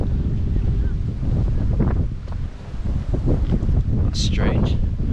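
Gusty wind rumbles across the microphone at Redmires Reservoirs during drought, a loud low roar that rises and dips, with faint bird-like chirps near the end and no speech.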